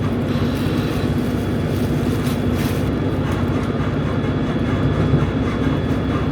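Steady low rumble and roar of a moving train car from inside, with a constant hum and faint rhythmic rattling throughout, no voices.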